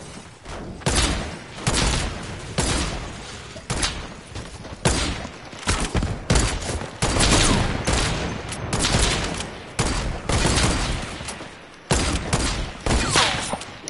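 Semi-automatic sniper rifle gunfire in an online shooter game, a dense run of loud, closely spaced shots and blasts filling the whole stretch with barely a pause between bursts.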